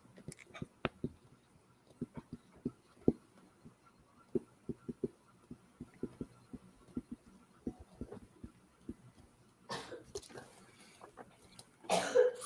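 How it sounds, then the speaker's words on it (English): A woman coughs repeatedly at a distance, a long run of short, sharp dry coughs spaced irregularly, ending in a couple of louder, harsher bursts of coughing and throat clearing. "Apologize for my wife coughing."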